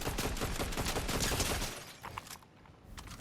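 Rapid automatic gunfire in a ranked battle royale video game rattles loud and dense, then cuts off into a quieter stretch with a few scattered shots.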